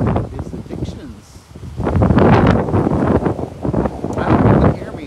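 Wind buffets the microphone outdoors in gusty, rumbling bursts, loud and uneven, with a person speaking underneath.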